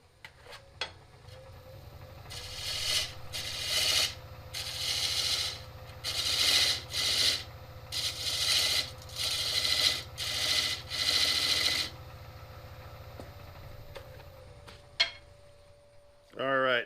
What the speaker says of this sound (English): I am going to use my skew to make sure it has a dovetail on it.